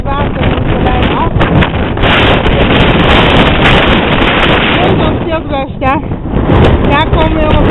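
Strong wind gusting off the lake waters at Glendalough, roaring steadily across the microphone for the whole stretch, with birdsong faintly chirping through in the later seconds.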